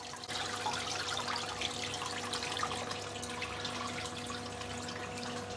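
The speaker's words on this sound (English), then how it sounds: "you don't have to stand there watching me fill a tank of water" Water pours steadily into a saltwater reef tank being filled, a continuous close rushing and splashing with no speech.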